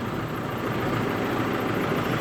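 A tractor engine, plugged in to warm for cold weather, runs steadily just after starting, a loud, constant low rumble and idle with no breaks.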